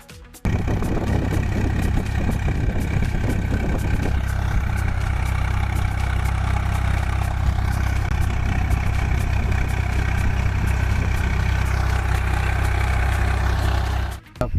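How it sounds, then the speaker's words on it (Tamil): Tractor engine in a farm field while watermelons are crushed, a loud steady low rumble and clatter running continuously up close for most of the stretch before cutting off, with voices faintly in the background. "டிராக்டர் மூலம் விவசாய நிலத்திலேயே தர்பூசணி பழங்களை அழித்தார்."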